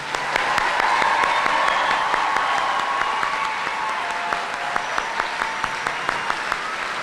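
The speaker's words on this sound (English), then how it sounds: "let's give them one more round of applause." A commencement audience at the University of Arkansas at Monticello gives a sustained round of applause, a dense, loud roar of many hands clapping that holds steady from start to finish.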